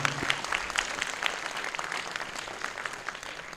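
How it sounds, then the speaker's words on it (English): A temple gathering applauds the priest after a long homam, a brief burst of moderately loud clapping from a modest crowd that stays fairly even for a few seconds. "Give a big applause to the priest who's done a long, long homam."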